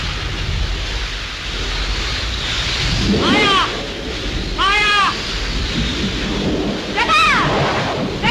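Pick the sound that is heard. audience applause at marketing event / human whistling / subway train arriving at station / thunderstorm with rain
thunderstorm with rain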